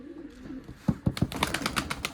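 Pigeons in a small coop cooing, a soft low murmur at first, then a run of quick, throaty coos and flutter-like bursts growing busier and closer near the end.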